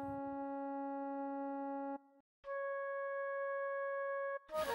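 A steady electronic phone-line tone sounds after a call is hung up, two sustained beeping tones separated by a brief gap, clean and alone.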